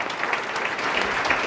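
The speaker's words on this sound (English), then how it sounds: "please give them a round of applause" An audience at a morning breakfast event claps in sustained, dense applause that holds steady throughout, with no voices rising above it.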